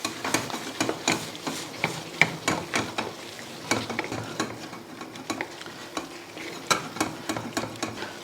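A spoon scrapes and clacks repeatedly against a pot of meat and spinach in an uneven rhythm while food sizzles softly underneath.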